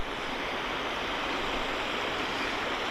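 A clean limestone river flowing over stones along a walking trail near Youlgreave, a steady, full rushing wash of water, close and continuous with no other sounds.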